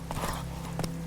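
Roach, Geralt's horse in The Witcher 3 video game, clip-clops along with a few hoof falls over a low steady hum, near and moderately quiet.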